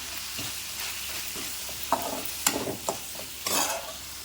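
Onions and tomatoes sizzle and fry in a pan while being stirred for chicken soup, a steady close hiss broken by several scraping stirring strokes.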